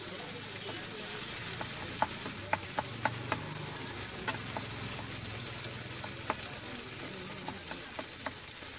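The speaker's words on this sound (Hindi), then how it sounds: "तो अब हम इसे अच्छे से मिक्स कर लेंगे।" Ground onion-coconut masala being stirred and fried in a pan, a steady low sizzle broken by frequent light taps and clicks of the spoon against the pan.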